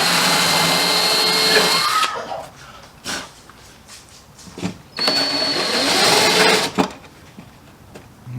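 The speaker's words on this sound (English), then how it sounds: "So now, all my holes are drilled" Power drill boring holes through a car wide body panel in two sustained bursts with a brief quiet gap between, close and loud, the motor whine steady while it cuts.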